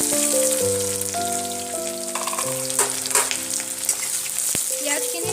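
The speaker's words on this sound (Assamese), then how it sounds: "পিঁয়াজখিনি ৰঙচুৱা হোৱালৈকে ভাজি থাকিব" Onions fry in a pan with bay leaves and five-spice seeds, giving a steady, dense sizzle with occasional stirring scrapes under background music.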